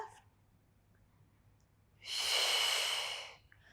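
A single long, breathy exhale during a gentle beginner Pilates mat workout. It comes close and fairly loud after a quiet pause, then fades out.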